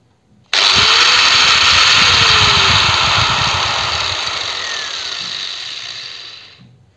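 A Procraft PW 1100 ES 125 mm angle grinder snaps on loudly and close, whines at full speed, then slowly winds down over several seconds as it coasts to a stop.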